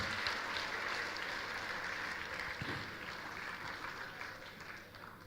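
Sustained audience applause at a B.Tech orientation program, greeting a guest speaker who is a senior product manager at Myntra; an even, continuous wash of many hands clapping that holds steady and fades slightly toward the end.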